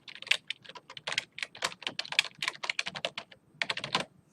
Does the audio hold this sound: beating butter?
no